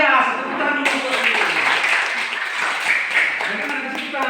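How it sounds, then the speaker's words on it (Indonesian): A classroom group bursts into clapping, a dense patter of many hands that carries on steadily while a voice talks over it. "tepuk tangan dulu"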